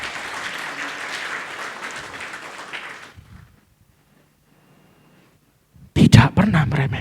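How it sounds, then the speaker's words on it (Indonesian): Applause from a church congregation during an online worship service, a dense broadband wash of clapping lasting about three seconds before dropping to near silence, then a loud burst of sound near the end. "Yang paham berikan tepuk tangan meriah buat Tuhan kita."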